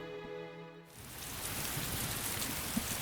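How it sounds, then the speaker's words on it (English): Rain in a horse racing video game sets in after a brief musical tone, becoming a dense, even hiss of falling drops that continues steadily with no talk. "Is it raining?"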